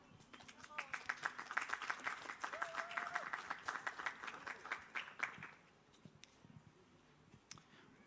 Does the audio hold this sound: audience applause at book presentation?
yes